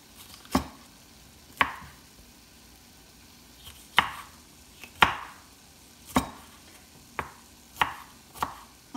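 A knife chops through peppers on a cutting board, sharp separate strikes at an uneven pace, close and clear with no talking.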